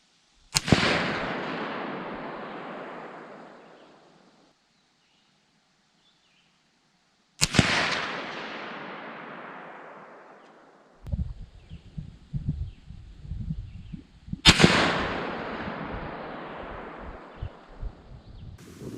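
Three sharp, loud rifle reports from a 6.5 PRC Browning Max Long Range fire several seconds apart, each decaying in a long echoing tail, with rustling handling noise between the later shots.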